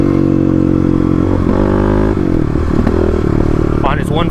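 Stage 3 Kawasaki KLX351 dirt bike ridden on Oregon forest trails, its engine droning loudly and steadily with rising and falling revs, shifts and some clattering, close up throughout.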